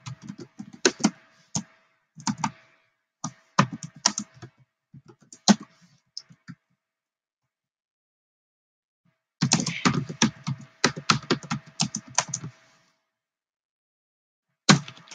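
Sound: typing on a computer keyboard

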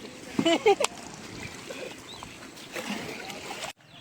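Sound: small boat moving through water

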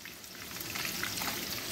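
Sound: onion sautéing in a pan for Chiapas-style chicken mole

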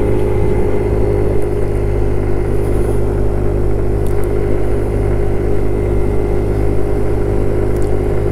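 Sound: Kymco Agility 50 scooter engine while riding

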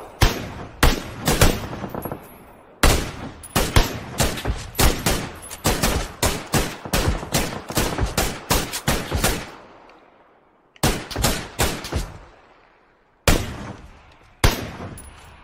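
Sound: gunfire in the video game PUBG

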